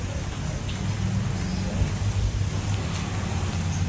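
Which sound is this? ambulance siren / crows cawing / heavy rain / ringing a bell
heavy rain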